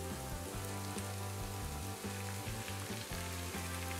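Pork pieces with bell pepper and pineapple sizzle steadily in a hot pan, a dense, even crackle of frying that holds for several seconds with no voices.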